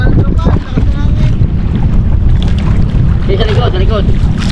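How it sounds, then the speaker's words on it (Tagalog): Strong wind buffets the microphone in a steady roar, with faint voices underneath. "Lakas ng hangin."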